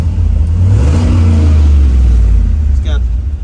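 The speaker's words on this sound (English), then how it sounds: "Give it a rev." A 1972 Chevrolet C10 pickup with a turbocharged LS engine revs up close and loud, a deep rising roar that holds and then eases off, with a voice speaking over it.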